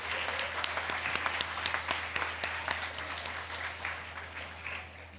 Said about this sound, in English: So please give a round of applause for all the educators.